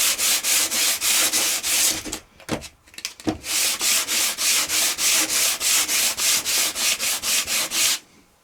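Wooden R/C hydroplane boat parts are sanded lightly by hand, giving repeated rhythmic rasping strokes, about two per second and close, with a brief pause and a few knocks in the middle.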